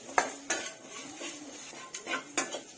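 A utensil scrapes and taps against a pan while garlic curry with spices is stirred and sautéed, giving a few sharp metallic clinks over a soft, low sizzle, close and fairly quiet.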